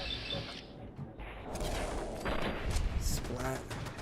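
Gunfire from gunners in the video game Fallout 4, with bursts of shots and booms over a noisy mix, heard under a voice.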